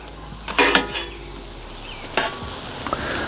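Brisket sizzles on a flat-top griddle, a steady hiss broken by two scraping, clattering bursts as the meat is flipped with a metal spatula.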